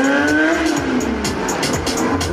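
A stunt motorcycle at a 2022 Czech stunt-riding semi-final skids to a stop on the run-up, with a loud sustained tire squeal and engine noise close by.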